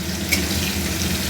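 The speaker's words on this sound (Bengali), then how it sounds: "পেঁয়াজটাকে একটু ভেজে নেব।" Chopped onion with bay leaf fries in hot oil for a shankar fish dish, a short, steady, close sizzle with no voices.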